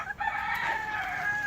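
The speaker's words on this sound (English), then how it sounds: "This is one of the ex-battery hens." An ex-battery hen on a smallholding makes a drawn-out, wavering, nasal call close by that holds for over a second against a faint background of ambient noise.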